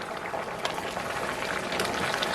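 A pot of string beans at a hard rolling boil, with steady bubbling and popping that stays dense and even throughout, close by and with no voices.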